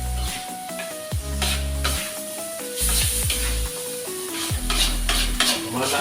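Bangladeshi-style chicken stirred and fried in a pan, with loud, close scraping strokes of a utensil against the metal in an irregular rhythm over a steady sizzle.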